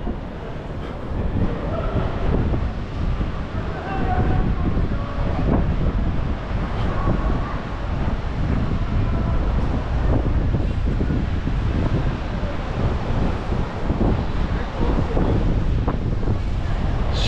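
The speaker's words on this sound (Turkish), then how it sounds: "Ne güzel esiyor." Wind blows steadily outdoors on a street in Tokyo, a continuous broadband rush and buffeting on the microphone that holds at a constant loud level throughout, with faint background sounds beneath.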